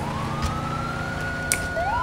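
Ambulance siren in GTA IV, a steady electronic wail sweeping slowly in pitch at middling distance, sounding continuously with no talk over it.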